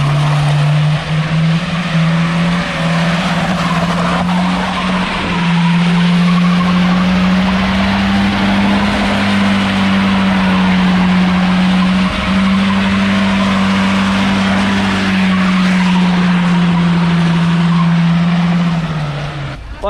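A Lada car doing donuts, its engine holding a loud, steady drone with tires skidding and scrubbing throughout the run, close by, then the sound eases off at the end.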